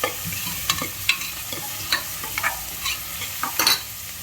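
Ingredients frying in a little oil, a steady low sizzle broken by several sharp scraping stirs of a spoon against the pan, close and alone with no voices.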